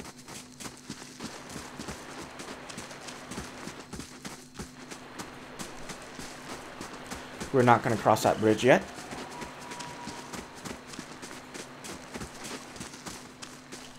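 Horse hooves clop in a quick rhythmic burst of about a second in the Pillars of Eternity video game, standing out above a steady ambient bed and following a man's speech.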